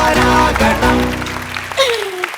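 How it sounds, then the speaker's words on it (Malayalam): An audience claps for the final five contestants of a Super Star Junior talent show finale on an Onam special, the loud applause blending with bright music and gradually fading. "ഒരു വലിയ കൈയടി കൊടുക്കുക അവർക്ക്."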